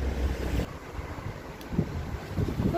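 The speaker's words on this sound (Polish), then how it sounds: "Taki jest wiatr." Gusty wind buffets the microphone, a rough, fluctuating low roar that swells and dips over a few seconds with no voices.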